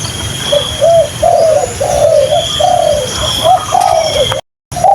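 Spotted dove cooing in a steady series of rising and falling phrases, loud and close against a low outdoor background hum.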